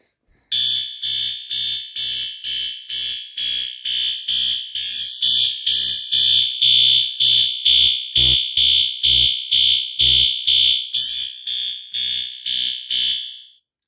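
A P2RL siren sounds its march time tone, sounding loud and close as a steady train of about thirty rapid, evenly spaced pulsing blasts with a harsh buzzing edge, with no other sound.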